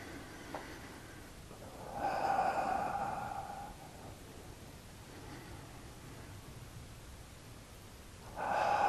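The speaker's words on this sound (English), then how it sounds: "Breathing in, breathing out." Slow, audible breaths during seated tai chi: a long, airy inhale or exhale, a quiet pause, then another breath starting near the end, close and soft with faint background hiss.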